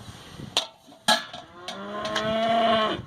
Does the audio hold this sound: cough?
no